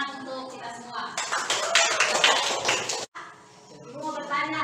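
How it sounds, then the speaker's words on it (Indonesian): A classroom of students applauds together, a dense burst of clapping that swells for about two seconds and cuts off abruptly, with a teacher's voice speaking before and after. "Oke, tepuk tangan untuk kita semua."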